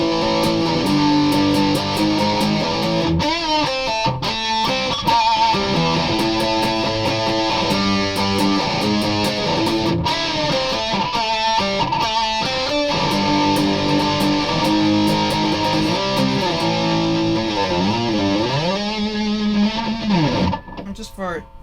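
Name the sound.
electric guitar through Behringer Ultra Metal distortion pedal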